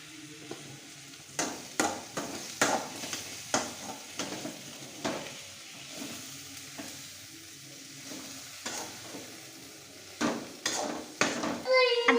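Hot chili powder fries in a pan over leaves while a spatula stirs it. A soft sizzle runs under repeated sharp scrapes and clacks against the metal, and a few scattered voices are heard.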